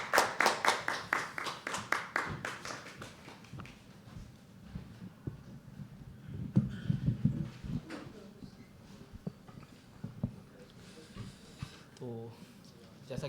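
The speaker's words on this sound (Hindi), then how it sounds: "इसी नोट पे जोरदार तालियों से बुलाया गया" Audience at a live poetry open mic clapping in a short, sparse burst at the start, then fading into scattered taps, shuffling and quiet room noise with some murmured talk.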